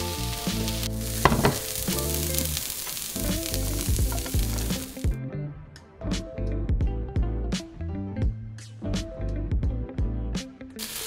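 Broccoli and zucchini sizzling in a pan, a steady crackling fry with bursts of spatter, heard alongside background music and tapping, moderately loud throughout.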